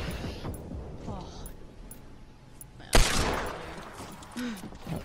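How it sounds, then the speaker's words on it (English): Desert Eagle pistol shots in Fortnite: one sharp, loud crack partway through, then a couple of lighter follow-up pops, under excited commentary voices. "He's going to fire for a couple of deagles."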